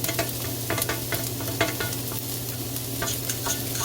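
A small amount of onion fries in a pan over medium heat for chop suey, giving a loud, continuous sizzle with quick spatula scrapes scattered throughout.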